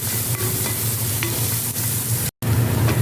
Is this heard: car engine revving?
no